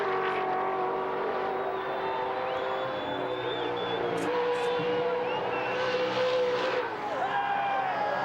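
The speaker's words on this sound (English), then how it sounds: "listen to the cheers of the crowd across the top of the mountain" A crowd on top of Bathurst mountain cheers while a big V8 touring car roars past during the Bathurst 1000, engine noise dominating and the cheering mixed underneath in a continuous loud wash.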